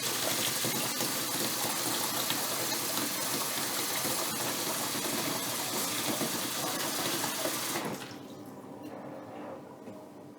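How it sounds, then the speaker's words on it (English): Hot water pours steadily in a continuous broadband gush for about eight seconds, then drops off to a quieter trickle and drip, with no voices. "Add some more hot water and see if it comes off."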